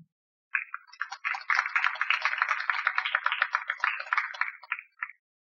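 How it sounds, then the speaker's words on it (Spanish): An audience claps for an engineer introduced as a speaker at a geographic engineering congress: a dense, steady patter of hands rising after a short pause, holding for about four seconds, then tapering off abruptly. "Un aplauso, por favor."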